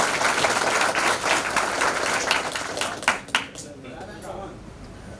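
Attendees at an employee association's annual election event applaud, loud, dense clapping that gradually thins into scattered claps and fades, with some talk in the background.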